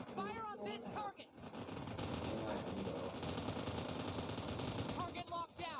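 Automatic gunfire from the battle-royale video game PUBG, with dense, continuous rattling bursts filling most of the stretch, mixed with game voices and other sound effects throughout.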